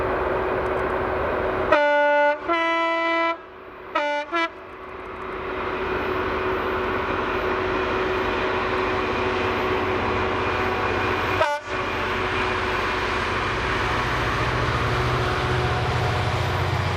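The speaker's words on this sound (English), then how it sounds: "Mossend PD Stirling to Huslet Tilcon loaded stone train with Cemex livery" A horn sounds in short blasts, then a heavy loaded stone freight train hauled by Class 66 locomotive 66780 rumbles past steadily and loudly, wheels droning on the rails for a long stretch.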